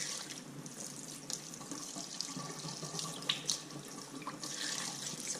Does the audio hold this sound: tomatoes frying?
no